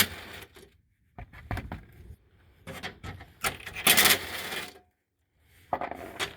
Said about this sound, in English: I'm going to use impact for this just to make it quicker